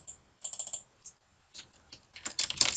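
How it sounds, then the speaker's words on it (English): Quick bursts of keystrokes on a computer keyboard, close and fairly quiet, tapping in short irregular runs with brief pauses between. "and then we will type here"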